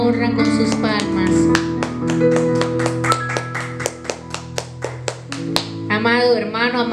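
A church congregation claps along in a steady rhythm during a Spanish-language worship service, sharp hand claps repeating over sustained music and voices throughout.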